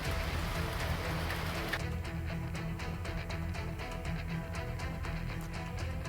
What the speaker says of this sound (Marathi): बुलढाण्यात मुसळधार पावसाचा तडाखा बसला